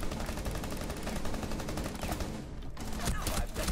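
Automatic rifle hip-fire crackles through a Rainbow Six Siege match in dense, rapid bursts, loud and continuous with only a brief dip before another sustained volley.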